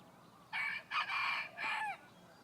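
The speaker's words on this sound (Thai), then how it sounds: "อาจจะมีเสียงไก่ ขันนะครับ" A rooster crows clearly in a few drawn-out bursts over about a second and a half, close and fairly loud against a quiet background.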